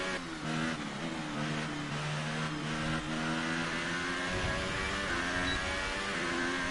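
An F1 2018 race car engine revs repeatedly on the grid in Hungary, high-pitched whining rises and falls in quick succession, loud and close, with no talk.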